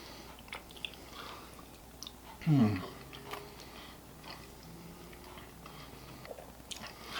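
Someone chews a mouthful of fresh cheese tortellini with sauce, soft wet chewing close to the mic with one louder bite, over faint room background.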